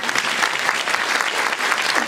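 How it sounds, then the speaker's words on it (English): School concert audience giving a round of applause, dense continuous clapping from a crowd at steady loudness with no pauses. "So give y'all selves a round of applause."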